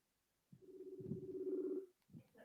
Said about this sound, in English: I'm ringing her on Messenger